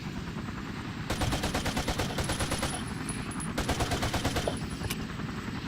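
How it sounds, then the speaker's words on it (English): Rapid automatic AK rifle fire rattles through a Battlefield Vietnam game scene, in two long bursts over constant battlefield noise, with a short gap between them. "I'll fire some rounds out of my AK."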